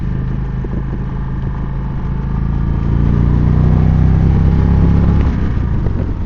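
Indian Springfield motorcycle with a Thunderstroke V-twin, heard while riding: a steady, loud low engine rumble with wind noise that swells and grows heavier partway through, as if under more throttle.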